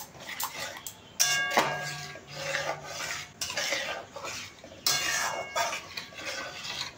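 A spoon stirs yogurt (curd) in a cooking pan for a home-style mixed vegetable dish, with repeated close metallic scrapes and clinks against the pan and no voices.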